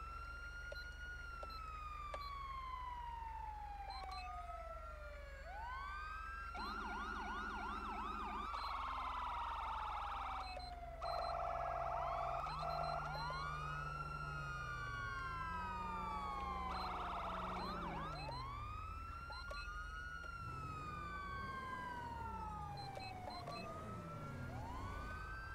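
A police siren from a video game siren mod, fairly quiet, cycling through rising and falling wails, then shifting into faster yelp and warble patterns, with no talking.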